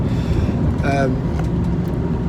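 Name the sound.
car driving, heard from inside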